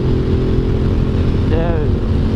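An Aprilia Tuono 660 motorcycle engine running steadily with a loud, continuous drone, then a short rising rev as the throttle is opened near the end.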